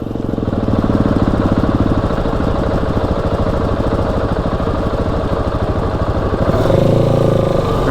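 A motorcycle engine runs close by on a forest road in Africa with a steady, throbbing putter, revving slightly louder near the end, with no talking over it.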